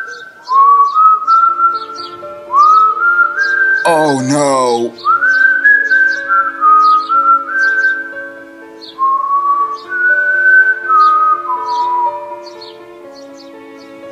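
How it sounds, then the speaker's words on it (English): A melodic whistled tune plays in the Roblox Piggy video game, with loud rising phrases repeated over several seconds, briefly interrupted by a short exclamation. "Do you guys hear whistling?"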